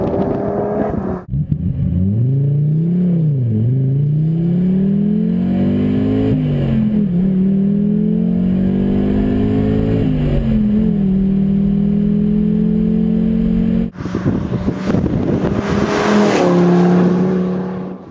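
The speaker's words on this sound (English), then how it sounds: "the power is quite high with the 5-cylinder from Audi, 380 horsepower" A Donkervoort sports car powered by an Audi five-cylinder engine making 380 horsepower revs loudly and continuously, its pitch rising and falling through several throttle blips, then a sharp change to a higher, rougher roar near the end.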